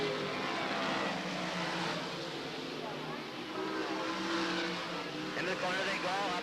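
Modified race cars roar around a dirt speedway, a dense continuous engine drone with rising revs as the pack sweeps through, loud and steady under an announcer's voice.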